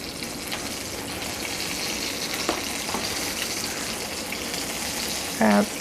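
Chicken parmesan cutlets fry in a pan with a steady, close sizzle and crackle that runs throughout, with a brief clink near the end.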